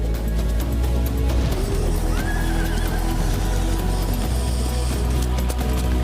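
Horses neigh at a horse-riding competition in China, a clear whinny rising above steady hoof clip-clop and a dense crowd-like background roar throughout.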